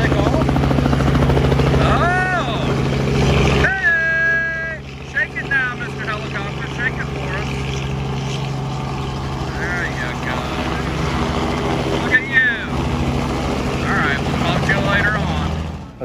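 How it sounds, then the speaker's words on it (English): Loud helicopter rotor roar as a helicopter takes off dominates throughout, with birds chirping and brief voices over the steady engine drone. "Just like that, helicopter took off."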